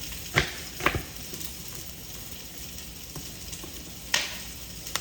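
Onion sizzles in a frying pan with a soft steady hiss, broken by a few sharp crackles and pops, close and fairly quiet with no voices.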